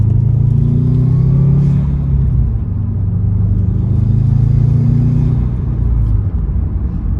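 Subaru WRX with a Grimmspeed cold air intake revving in two loud surges, its low engine rumble and intake roar swelling and easing, heard close up without any voices.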